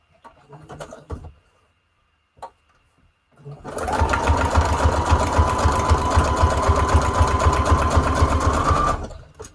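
A sewing machine runs steadily for about five seconds as it stitches junk journal tags. It is loud and close, with a fast rhythmic whir, and a few soft handling taps come before it.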